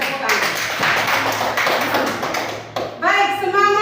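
Children clapping their hands together in a classroom-style gathering, a short burst of close, fairly loud claps that gives way to a child's and adult's voices speaking near the end.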